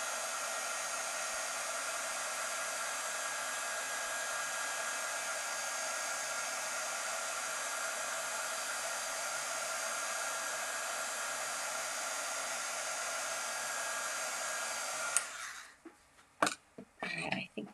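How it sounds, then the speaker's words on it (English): A heat tool on its low setting blows steadily and loudly for about fifteen seconds while drying mail art, then cuts off, leaving faint handling clicks and rustles. "I have my heat tool on the low setting."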